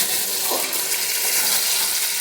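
Chicken pieces being stirred and fried in a pan for Bengali chicken kosha, a steady broadband sizzle with soft scraping as the meat is turned, constant and close throughout.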